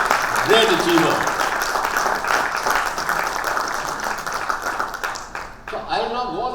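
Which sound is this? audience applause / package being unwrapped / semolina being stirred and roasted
audience applause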